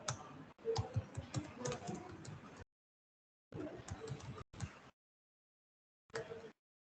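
Rapid keystrokes clatter on a computer keyboard in close bursts separated by silent gaps, with no one speaking.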